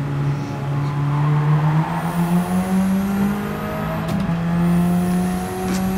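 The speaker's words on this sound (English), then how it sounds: "it's just revving its nuts off all the time" A race car engine revs hard and continuously in the Gran Turismo racing game, a loud, sustained, climbing whine that holds high through the clip with slight pitch shifts as gears change.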